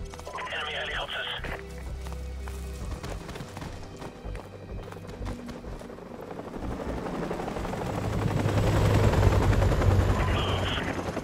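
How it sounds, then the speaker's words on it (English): Enemy helicopters in Call of Duty Modern Warfare Remastered drone with a rotor rumble amid bursts of gunfire and battlefield clatter, growing louder toward the end, with voices heard over the combat. "Enemy helicopters."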